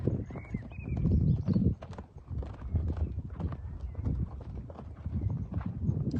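A horse gallops in a meadow, heavy rapid hoofbeats thudding close by in an uneven rhythm, with a brief whinny near the start and bursts of louder pounding throughout.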